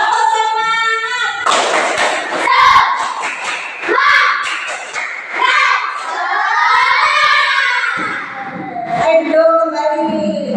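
A class of children performs the rhythmic 'tepuk semangat' clap during a school exercise lesson: bursts of patterned group claps mixed with loud chanting and shouting voices, close and lively throughout.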